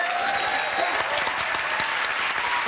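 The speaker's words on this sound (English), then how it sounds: "got a round of applause." A studio audience on a TV chat show gives a full, dense round of applause that runs steadily through the whole moment at close range, with no voices over it.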